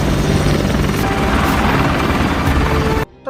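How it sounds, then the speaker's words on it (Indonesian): Helicopter flying in a commando action film, a loud, steady close rotor roar with rhythmic blade thumps that cuts off abruptly near the end, with no talk. "Kembali ke Yordania, tim melihat Reza pergi menggunakan helikopter."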